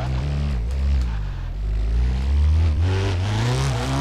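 Car engine revving in the drift racing game DRIFTCE, a loud continuous engine drone with rising and falling pitch as the throttle is worked through a drift, with no talk over it.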